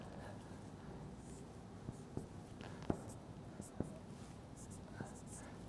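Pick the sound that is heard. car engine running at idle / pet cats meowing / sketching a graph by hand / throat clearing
sketching a graph by hand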